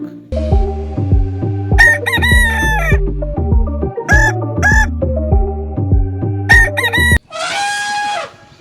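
A rooster crows and clucks loudly and close by in repeated, stepped bursts. The sound ends with a short, harsh, noisy squawk.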